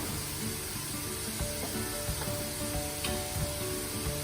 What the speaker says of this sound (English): you can probably hear it sizzling